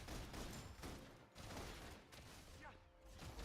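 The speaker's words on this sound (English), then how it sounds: "Requesting full suppression gunfire." Rapid video game gunfire in full suppression, dense overlapping bursts of shots and mechanical clatter filling the whole stretch with brief gaps, loud and close.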